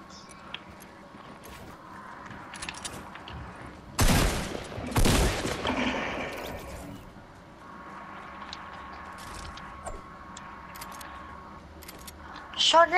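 Gunfire in the video game Fortnite, a quick cluster of loud shots near the middle, with game effects and players chatting throughout.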